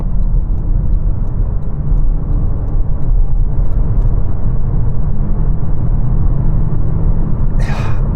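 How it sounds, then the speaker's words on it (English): A Toyota C-HR small SUV's engine drones loudly and steadily under hard, full-throttle acceleration, a constant low rumble that holds throughout without letting up. "when you accelerate hard, you do get a little bit of a droning sound from the engine"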